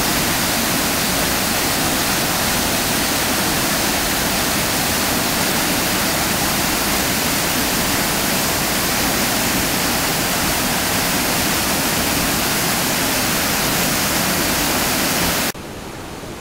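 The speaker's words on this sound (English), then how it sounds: "That's the fish ladder right in front of me there. And the waterfall." Waterfall and fish ladder on a river in Glen Esk: a loud, continuous rush of falling water fills the whole stretch without a break, then drops off abruptly at the end.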